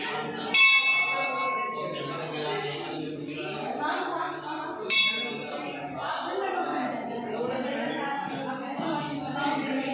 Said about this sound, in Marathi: इथं घंटा होती आणि हे आमचा छोटू घंटा वाजवून घेतोय